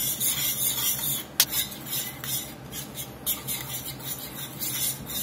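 A spoon stirs butter into a red wine pan sauce in a pan with the heat off, a steady close scraping and swishing with a few sharp clinks of metal against the pan.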